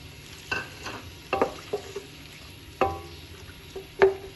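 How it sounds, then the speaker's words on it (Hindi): Chopped onions sautéing in hot ghee: a faint low sizzle broken by several sharp scrapes and clatters of a spoon against the pan, spaced irregularly. "घी गर्म हो गया, इसमें हम करेंगे प्याज को सौते कर लेंगे"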